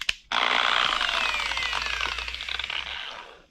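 A power sander starts with a click and runs with a loud, harsh whirring grind for several seconds while dry sanding clear coat on a car, close by, slowly winding down at the end.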